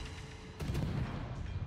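Battleship Yamato's main guns fire in World of Warships, a single heavy deep boom bursting in and rumbling on loudly with a rolling low tail.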